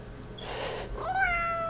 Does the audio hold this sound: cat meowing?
yes